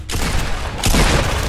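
Gunfire in the battle game Fortnite, a short rapid burst of dense, loud shots that cuts off briefly and then resumes even heavier, with no talking over it.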